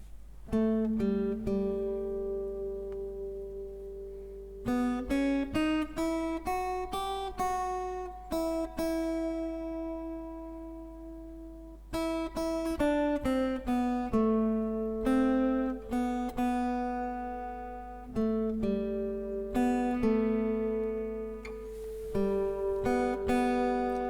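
Plucked acoustic guitar notes from a song played slowly and cleanly, individual strings ringing out in a gentle fingerpicked pattern with short pauses between phrases.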